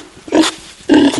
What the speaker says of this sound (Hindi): घर में सुअर कहाँ से आ गई है?